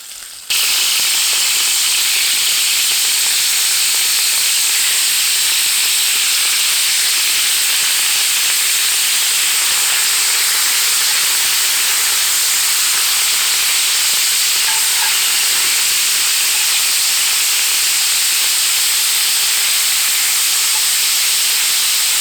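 Venison browning in hot oil in a skillet over a Firebox Freestyle firepit, a loud constant sizzling hiss that starts suddenly and holds steady throughout.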